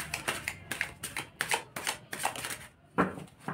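A deck of tarot cards is shuffled and handled up close, with a run of short, crisp riffling bursts separated by brief pauses, fairly quiet.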